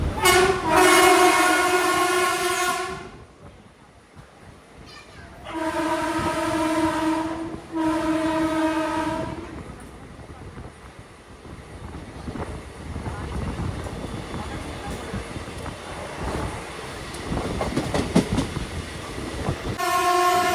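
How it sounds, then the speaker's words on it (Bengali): Howrah–Sahibganj Intercity Express 13427 runs through Konnagar station in Hooghly district without stopping, its loud horn blaring in long blasts at the start and again midway, with a steady rumble and clatter of wheels on rails between and a brief horn at the end. "Platform number 1 through passing intercity express."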